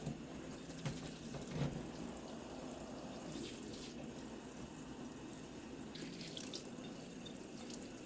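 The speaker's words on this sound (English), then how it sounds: "So you want to make sure that the water is getting all the way through." Water poured over seedling trays of freshly sown seeds soaks steadily into the soil, a continuous close trickle and splash with brief drips and no voices.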